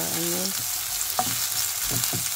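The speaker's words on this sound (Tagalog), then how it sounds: "Lutuin ko lang natin ng onion guys para" Chopped onion fries in a pan while a Filipino bitter melon dish is cooked. A steady, close sizzling hiss runs throughout, broken by a few soft stirring scrapes.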